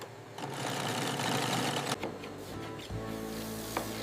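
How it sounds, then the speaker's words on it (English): Sewing machine stitching exotic ostrich leather for a cowboy boot, a steady mechanical whirring chatter that stops briefly near the middle, then resumes with a lower hum and a few clicks, close and without talk. "Exotic leather requires slower stitching and expert precision"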